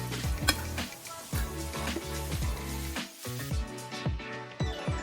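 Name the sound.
squid frying in oil in a pan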